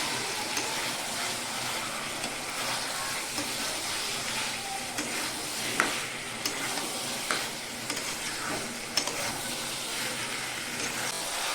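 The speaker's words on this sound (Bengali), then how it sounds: "মাংসটা কষে নিই ভালো করে।" Meat for a simple meat curry fries in a pan with a soft, steady sizzle broken by scattered clicks and scrapes of stirring, moderately quiet and with no voices.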